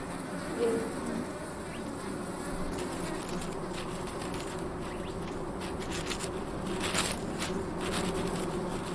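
Bees buzz steadily in the Sonoran Desert, a continuous insect hum over a dense outdoor background, with faint bird calls and occasional louder passes nearby.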